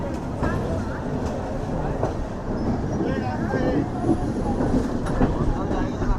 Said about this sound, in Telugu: ట్రైన్ వచ్చేసి విజయవాడ జంక్షన్ నుంచి అయితే బయలుదేరిపోయింది